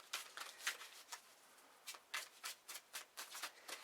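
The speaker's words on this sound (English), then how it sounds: "they want to be shuffled up a little bit more" A tarot deck being shuffled by hand: soft, close bursts of riffling and sliding cards that come in quick rhythmic bunches, pause briefly, then carry on, all quiet and with no talking.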